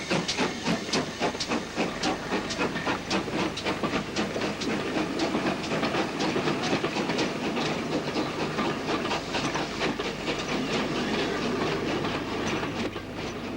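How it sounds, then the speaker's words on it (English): Steam locomotive Coney Hall pulls away from a station platform, its loud steady hiss of steam running under a quick stream of rhythmic chuffs and rail clatter, close and continuous throughout. "Coney Hall is about to depart for the west"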